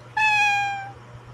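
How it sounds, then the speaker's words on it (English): One clear cat meow, sharp at the start and fading out over about a second, heard alone against quiet background hum. "A cat meowing."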